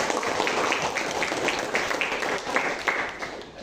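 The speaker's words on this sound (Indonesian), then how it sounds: "Ya, mau lihat tepuk tangan." Classroom students clapping hands together in applause during a lesson, a dense, steady patter of many claps at moderate loudness lasting the whole moment.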